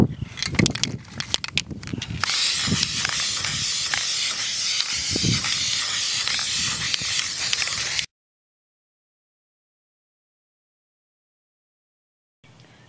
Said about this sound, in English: And now I'm just gonna go ahead and spray paint